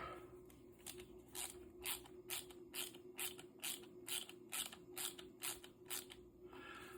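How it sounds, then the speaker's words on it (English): Ratcheting screwdriver driving screws into a Fanhome 1/8 scale 1966 Batmobile model, giving a steady run of close, crisp clicking bursts in a regular rhythm, with no talking. "Bring out my ratcheting screwdriver."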